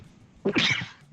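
A single short sneeze or cough bursts out, quiet and close, amid faint background noise during a tabletop role-playing session.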